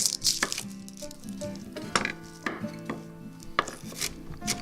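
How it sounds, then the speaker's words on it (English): Quick knife strokes tap against a cutting board dicing an onion in a steady rhythm, close and clear, with faint kitchen clatter underneath. "Now dice half an onion."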